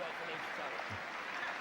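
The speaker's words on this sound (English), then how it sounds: "Sporting applause from the Dog supporters for Maiden" Scattered applause from Batley supporters at a rugby league semi-final against Leigh, a faint, distant wash of clapping across the ground, low and continuous throughout.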